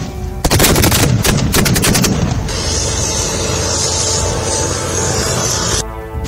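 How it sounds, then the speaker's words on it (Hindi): Indian Army fire during the Desert Strike exercise at the Pokhran field firing range: rapid machine-gun bursts crack out, then a long rolling roar of sustained fire and distant booms hangs in the open desert air. "भारत पाकिस्तान अंतर्राष्ट्रीय सीमा से सटे पोखरण फील्ड फायरिंग रेंज में भारतीय सेना की ओर से इस युद्धाभ्यास को डेजर्ट स्ट्राइक नाम दिया गया था"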